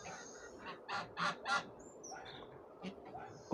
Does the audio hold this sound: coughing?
no